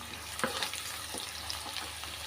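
Chopped onions and green chillies with a little salt are sautéed in a pan for a broad-bean tamarind curry, giving a soft, steady sizzle broken by a few stirring scrapes, quiet and close with no talking.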